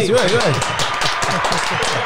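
Hands clap in a brisk run to welcome a guest named Jersey onto a show, the claps mixed with lively talking voices throughout.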